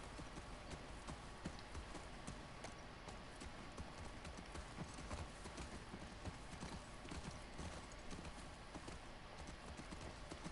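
Horse hooves clip-clopping steadily and continuously in The Last of Us Part 2 video game, a dense rhythmic patter of hoof strikes at moderate level with no speech.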